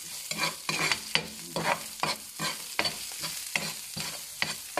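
Onion sautéing in oil in a pan after browned garlic, with a loud, close sizzle broken by regular scraping stirs in a steady rhythm, several strokes per second, and no voices.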